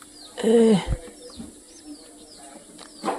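Pigeon chicks taken out of their nest, with a short bird call and some rustling and wing-flapping nearby, followed by quieter shuffling.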